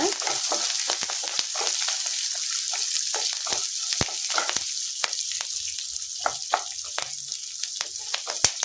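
Onions, green chillies and curry leaves sautéing in a pan for a quick cabbage poriyal, a loud continuous close sizzle broken by frequent sharp spatula scrapes and crackles throughout.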